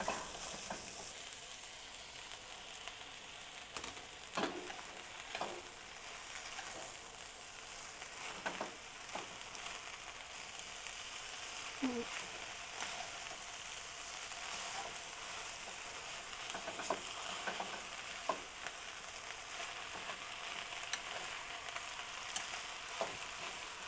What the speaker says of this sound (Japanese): 均一になるようにしっかり混ぜます